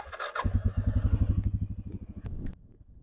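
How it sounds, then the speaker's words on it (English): Suzuki KingQuad 750 ATV engine on a top speed run, a rapid pulsing exhaust note that rises and holds for about two seconds before cutting off, close and fairly loud. "Take this KingQuad 750 and do a little top speed run on it"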